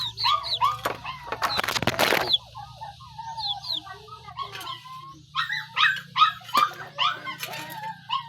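A dog barks in a short burst of loud yelps near the start, with chickens clucking and small birds chirping all around in a rural home yard.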